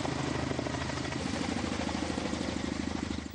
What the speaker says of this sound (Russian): Так пожарный вертолет вчера и сегодня более 20 раз поливал полигон ТБО водой.